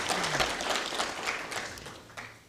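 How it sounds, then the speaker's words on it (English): Audience applause for a professor at a construction research dissemination forum, a steady dense clapping that fades slightly toward the end, heard alone without talk. "I think we can give another round of applause for the professor."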